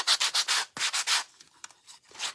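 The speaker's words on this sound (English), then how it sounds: "Now I'm going to give it just a really nice light sanding first." Light hand sanding of a small Dollar Tree heart over wax paper, heard as a run of quick rhythmic rubbing strokes in bursts, close and fairly loud, with short pauses between passes.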